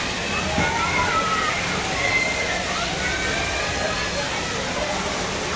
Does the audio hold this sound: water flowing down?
yes